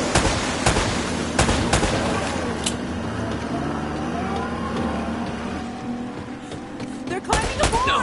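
Gunfire in the video game Uncharted: Drake's Fortune: scattered sharp shots crack out at irregular intervals amid a busy game soundscape, with short bursts clustering near the start and end.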